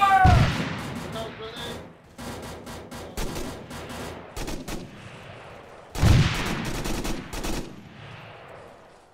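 Bursts of gunfire crackle in a military video game, several clustered volleys with short pauses, mixed with voices calling out over the shooting.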